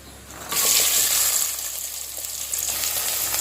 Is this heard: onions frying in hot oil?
yes